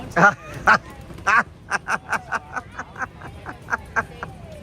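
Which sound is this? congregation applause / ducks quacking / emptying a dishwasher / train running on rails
ducks quacking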